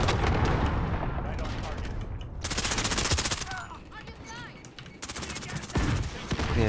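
Rapid bursts of automatic gunfire crackle loudly in Call of Duty, cutting in and out between short pauses, with a fast-firing weapon chattering in clusters and softer game effects in the gaps.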